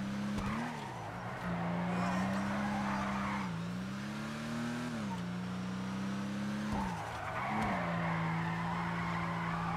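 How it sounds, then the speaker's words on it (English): A Nebula Turbo drift car in GTA Online slides with a sustained engine drone and rising, falling revs, tires squealing continuously through the drifts, loud and steady with no voices. "Let's try to drift around with this car."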